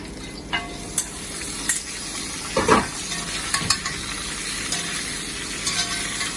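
Pork fries with ginger and garlic in a pan for Chinese braised pork belly, a constant close sizzle broken by spatula scrapes and clinks against the pan, with bursts of stirring and no speech.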